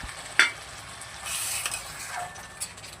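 Hot water hits a sizzling spice paste for a fish curry with winter vegetables, a sharp hiss rising into a steady frying crackle with stirring clicks. The sound is close and continuous for about three seconds.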